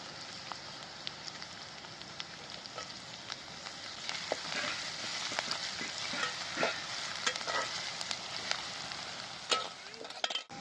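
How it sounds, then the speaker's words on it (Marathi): Garlic and onion frying in a pan with a constant crackling sizzle that grows busier midway, with scattered pops and spatters and occasional stirring clatter near the end. "आता लसूण टाकते"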